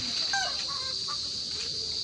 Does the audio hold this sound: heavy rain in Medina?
no